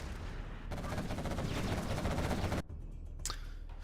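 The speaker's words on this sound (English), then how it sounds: "Artillery coming across the map." Artillery fire in the real-time strategy game C&C Generals Zero Hour, a dense, rapid rattle of shots that ends abruptly, followed by a few sharp isolated cracks, with no talking.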